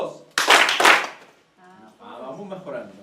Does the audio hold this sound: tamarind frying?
no